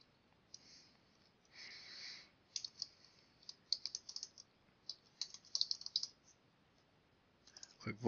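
Computer mouse clicks and light keyboard taps while working in accounting software to void an invoice, a sparse, quiet cluster of crisp clicks with short pauses between, ending in a louder knock.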